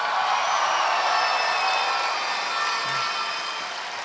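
Crowd noise fills a basketball grand final between Mount Gambier Pioneers and Forestville Eagles, a steady broad roar of cheering and shouting from the stands that holds level throughout and eases slightly near the end.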